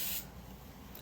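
Hair spray mists from a can onto a ponytail in a brief sharp hiss at the start, then cuts off into quiet room noise.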